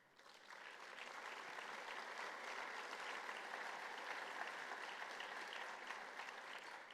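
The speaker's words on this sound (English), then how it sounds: "Would the guests representing these companies please stand for a round of applause?" Guests at the HFMN 2025 Honoring the Brave breakfast give a steady round of applause for Silver Star sponsors, rising quickly then holding even and distant-sounding for several seconds.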